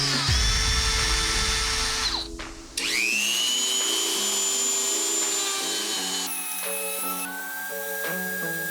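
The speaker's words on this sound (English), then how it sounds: "I'm gonna drill a hole and then I'll notch it out from there" A power drill bores a hole through a plastic trim piece for a tow hook on a 2022 Toyota GR86, a close, high whining spin that drops out briefly midway and then resumes steadily.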